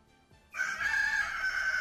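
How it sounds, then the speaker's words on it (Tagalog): A rooster crows loudly and sustained after a brief quiet start, its drawn-out call filling most of the clip. "Sa ating sunrise sunset, tumilaok ang manok ni Giljon"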